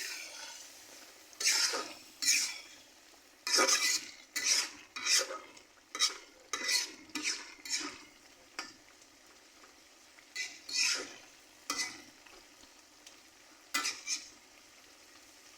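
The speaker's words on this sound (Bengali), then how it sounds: "আমি একটু নেড়ে চেড়ে নেব।" Food being stirred in a pan after its lid comes off: a spoon scrapes the pan in repeated brisk strokes, close and fairly loud, with short pauses between bursts and no talking.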